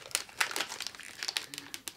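Valentine's Day gift wrapping paper crinkles and rustles close up in a quick run of sharp, uneven bursts, with no voices.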